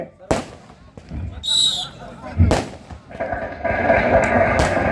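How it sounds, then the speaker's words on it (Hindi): Firecrackers and fireworks set off at a kabaddi semifinal match between Chogan Club Jaipur and Nagaur Club, with several sharp bangs and crackling bursts mixed with crowd noise and an announcer talking over them. "250 पटाखे चला दो डीजे"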